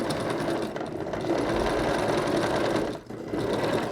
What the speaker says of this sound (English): But I'm going to do a lock stitch up here.